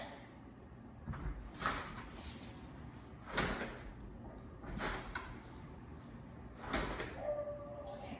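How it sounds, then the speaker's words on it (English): Door being shut indoors, several soft sliding and bumping thuds spaced a second or two apart, fairly quiet with low room noise between them. "I actually shut the door every time she moves towards the door."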